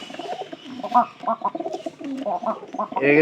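Pigeons coo continuously and close by inside a coop, their soft, overlapping calls rising and falling, with a few clucking notes mixed in.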